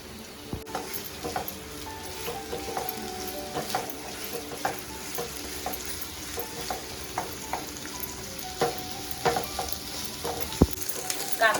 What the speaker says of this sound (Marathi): पहिला कांदा भाजून घ्यायला लागेल, थोडा लाल लाल करून